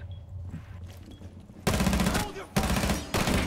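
Rapid automatic gunfire from a multiplayer shooter game, loud bursts of machine-gun fire starting after a quieter opening, with short gaps between volleys and faint voice chat underneath.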